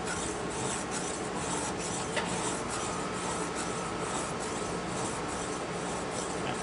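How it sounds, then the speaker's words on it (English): A pen mill rubbed back and forth on a sharpening stone, a close, steady gritty rasping scrape that continues without pause and without any voices. "it might not be the best sharpening stone in the world to do this on, but I am getting a heck of a cut right there"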